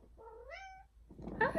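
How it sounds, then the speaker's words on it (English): A domestic cat gives a single clear, rising-then-falling meow close by, followed after a short pause by a person starting to speak. "Meow, Faith."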